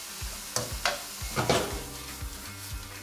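Plant-based chorizo cooks in a pan over medium-high heat, sizzling softly and steadily with several sharp stirring scrapes and clicks of a utensil against the pan.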